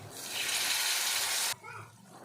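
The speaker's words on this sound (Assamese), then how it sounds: "অলপমান পানী দিম" Water pours into a hot frying pan of prawns and spices, a steady hissing rush for about a second and a half, then stops abruptly, leaving faint sizzling behind.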